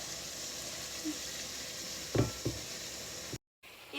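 Onion, carrot and ribs frying in a pan, a faint steady sizzle with a couple of soft knocks of a utensil against the pan, close and without voices.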